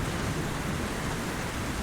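Heavy rain pours down in a dense, unbroken roar, loud and steady throughout with no voices.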